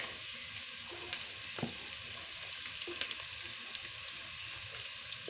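Garlic fries in a pan for a dried shark curry, a quiet, steady sizzle with a few soft clinks and scrapes of stirring scattered throughout.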